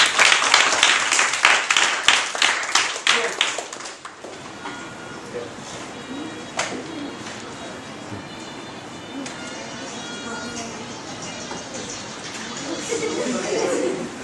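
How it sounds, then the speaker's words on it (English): Audience applause fills a lecture hall at an IAS coaching event in Kottayam, loud dense clapping for about four seconds before it stops abruptly, leaving quieter room murmur and shuffling. "Give her a big clap."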